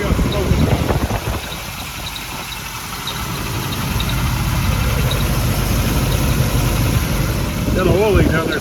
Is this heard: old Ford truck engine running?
yes